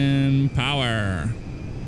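Boeing 747 jet engines in GTA 5 spool up to takeoff power, steady whining tones that suddenly jump and rise in pitch before settling, loud and continuous under a faint background hiss.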